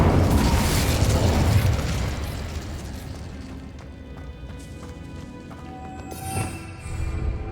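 Confringo and Incendio spell blasts in Hogwarts Legacy, a loud rumbling explosive burst that fades into a softer crackling tail, followed by a second smaller bang.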